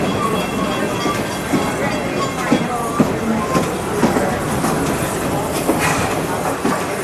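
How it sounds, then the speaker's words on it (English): The Serengeti Express train at Busch Gardens rolls along with a steady rumble and intermittent wheel clicks and clacks. Faint voices come through in the background. "enjoy your ride on the Serengeti Express train"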